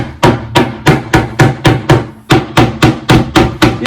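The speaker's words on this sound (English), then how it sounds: "can you hammer them down for me?" A hammer strikes parts of an IKEA table during assembly, about a dozen close, loud, evenly spaced blows with a brief pause midway.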